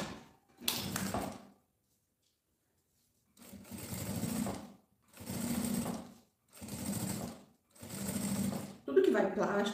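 A sewing machine runs in four or five even bursts of steady whirring while stitching plastic for a toiletry bag, separated by short pauses, with a brief clack at the start and someone talking over it.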